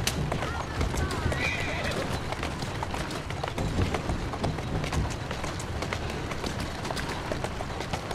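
Steady clip-clop of a horse's hooves runs throughout, with a high whinny rising briefly early on, in Assassin's Creed Syndicate.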